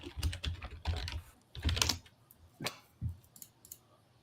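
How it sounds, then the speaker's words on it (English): Mechanical keyboard keys mashed in quick, uneven bursts of loud clacking, close and alone with no talk over them. "Sorry, mechanical keyboard."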